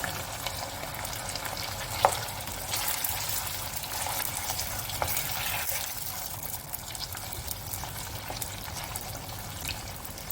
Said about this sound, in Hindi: जी, तेल गर्म हो गया। अब इसमें मैं ये छिली हुई कटी हुई अरबी डाल दूँ।